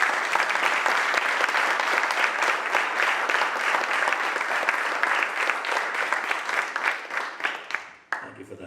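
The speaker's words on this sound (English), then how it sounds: "let us give both teams a round of applause" Audience applause for both school teams at an inter-school debate competition, sustained steady clapping from a sizeable crowd that thins toward the end and stops abruptly before a short trailing patter.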